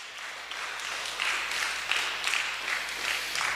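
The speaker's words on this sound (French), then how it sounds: "On acclame très fort le Seigneur Jésus-Christ." A church congregation applauds loudly for Jesus Christ during a Sunday service, a steady wash of clapping with a few swelling bursts throughout.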